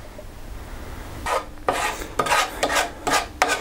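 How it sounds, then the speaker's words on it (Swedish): Sponge cake batter being whisked by hand in a bowl: after a quiet start, a run of brisk, rasping strokes comes in uneven bursts, close and fairly loud, with no talking. "Och så nu ska det vispas."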